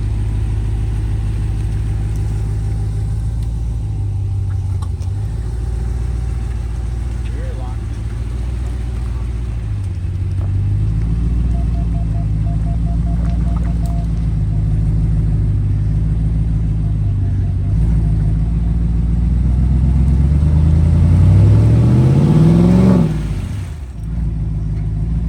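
A RAM Power Wagon overlanding build drives through a mud pit with a deep, continuous engine rumble, rising into a revving surge near the end before easing off, close and loud with some talk underneath.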